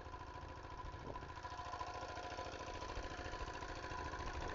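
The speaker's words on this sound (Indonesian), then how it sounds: "Ya, diesel jiangfa." A Jiangfa diesel engine runs a water pump for irrigating sugarcane, giving a steady low, throbbing chug with rapid rhythmic knocking, heard close and alone.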